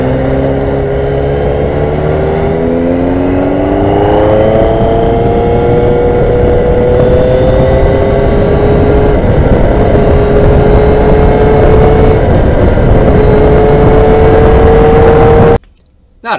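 Close, loud engine drone from a BMW GS1200 motorcycle riding a closed road with icy patches below freezing, its pitch rising and easing through the gears, with heavy wind rush continuing almost to the end.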